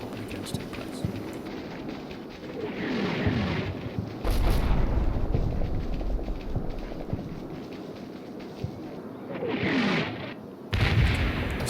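Mortar barrage in the WWII video game Combat Mission Fortress Italy, set in Italy in August 1943: two heavy, booming explosions with long rumbling tails land a few seconds apart over a steady background din of distant battle noise.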